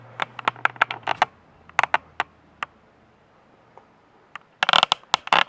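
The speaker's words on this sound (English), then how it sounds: "Sorry about the creaking noise that makes." A camera stand creaks in a quick run of sharp clicks as it is raised, pauses, then gives another dense burst of creaks and ticks while being angled, close and fairly loud.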